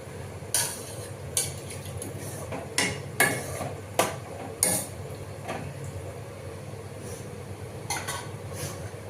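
Chicken pieces frying in a pan for gravy chicken noodles, with a steady low sizzle under repeated sharp scrapes and clinks of a utensil against the pan, no talking.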